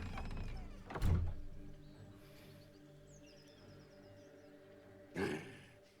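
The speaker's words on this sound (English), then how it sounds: "Screw it. Open the door." Wooden door creaking open in Baldur's Gate 3, a heavy thunk near the start followed by a quieter rustle and a second knock a few seconds later over low ambient hum.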